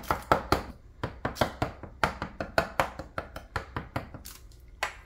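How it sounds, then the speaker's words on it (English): Fork punching holes in the crust of a plum raspberry coffee cake, a quick run of sharp, close taps against the pan, about twenty in an uneven rhythm. "I will use a fork to punch some holes in there so the crust is even"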